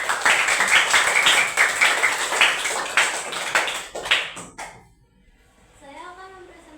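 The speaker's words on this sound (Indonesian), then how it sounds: "Kita berikan tepuk tangan dulu." A classroom of students gives a round of applause for a group presentation, a loud, close patter of clapping that thins out and stops, followed by a voice starting to speak.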